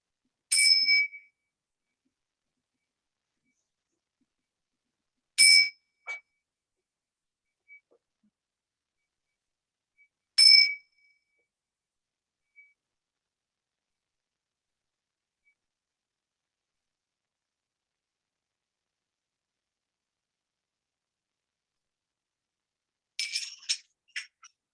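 Three clear, bright chime dings sound alone, several seconds apart, each ringing briefly in near silence, followed at the end by a fainter cluster of tinkling tones.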